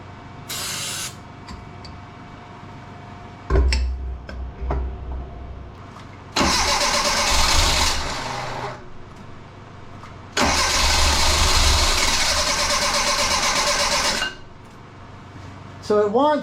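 Starting fluid is sprayed into a 1984 Bertone X 1/9 with three bad fuel injectors that won't start, and the engine cranks in repeated loud bursts of several seconds each, separated by quieter pauses, catching briefly but failing to keep running.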